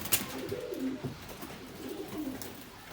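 Adana pigeons released and flying, with soft low cooing calls repeating close by and a few brief wing flutters.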